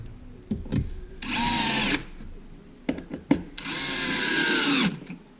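A power drill drives 1 5/8 inch drywall screws into a wooden bench top in two loud, sustained runs of about a second each, with clicks and handling noise between them.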